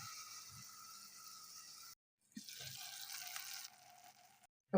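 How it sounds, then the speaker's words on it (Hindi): Tomatoes and ginger frying in a pan over garlic, onion and cumin, a steady hiss that cuts off, returns louder after a pause with faint clatter, then stops again before a brief knock. "अब ये इसमें टमाटर और अदरक डाल देंगे और इसको थोड़ा सा भून लेंगे।"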